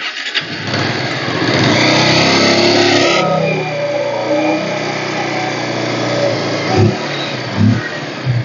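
A 2017 Bajaj Pulsar 150 motorcycle engine idles and revs steadily up close, a rough mid-pitched rumble, followed by a few sharp knocks and revs near the end, at a used bike market in Coimbatore.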